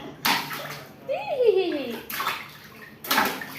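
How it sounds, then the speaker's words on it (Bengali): Tap water runs and splashes as a child bathes, a steady gush with sloshing that rises and falls, while a voice and other voices speak over it at close range. "তুমি একা একা ট্যাপ ছেড়ে পানি নিচ্ছ?"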